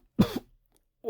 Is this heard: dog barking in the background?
no